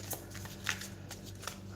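A deck of Rider-Waite-Smith tarot cards is shuffled in a steady, soft riffling patter with a few crisp snaps, close by over a low electrical hum.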